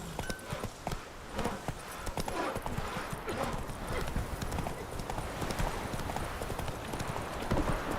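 Horse hooves clip-clop in a steady, fast rhythm across the video game Witcher 3, with a brief whinny and faint ambient game sound beneath.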